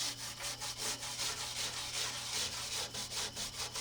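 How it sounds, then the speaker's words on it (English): A stiff brush scrubs cleaner over the grimy body of an old Mack truck, with rapid, steady back-and-forth strokes close by and no talking. "The more you scrub, the better it is, by the way."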